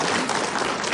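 An audience at a talk-show style chat breaks into a short, dense burst of applause, loud and continuous across the brief moment.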